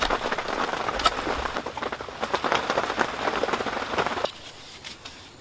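Rain falling on a bushcraft shelter, a dense pattering hiss of drops striking the cover nearby that continues steadily, then drops to a quieter patter near the end, with no talk.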